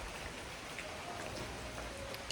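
Steady rain falls outside the back outdoor area of a cozy venue, a soft even hiss of drops on surfaces with no voices, fairly quiet and continuous throughout.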